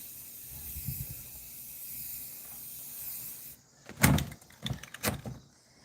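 A spray can hisses in a long, soft, steady burst. After a short pause come several sharp, louder hissing spurts with brief gaps between them, close to the microphone.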